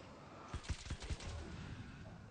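Nail gun fired in Alan Wake's American Nightmare: a quick run of four or five sharp snapping shots in close succession, fairly faint, then a low quiet background.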